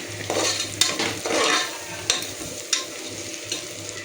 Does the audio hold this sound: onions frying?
yes